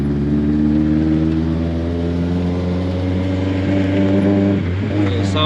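A motorcycle engine idles loud and close with a deep, even hum, then revs up briefly near the end.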